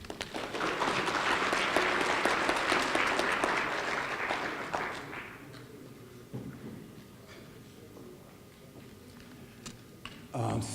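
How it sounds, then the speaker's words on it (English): An audience at a police chief candidate town hall applauds the candidates with a loud, dense burst of clapping that tapers off after about five seconds, leaving quieter room noise and a few stray claps. "Please join me in giving a round of applause to the candidates for the chief of police position."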